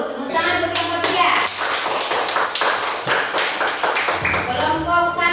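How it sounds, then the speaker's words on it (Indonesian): A class claps for a student group in a classroom, a steady patter of many hands filling the space at moderate volume, with children's voices mixed in underneath. "tepuk tangan untuk kelompok 3"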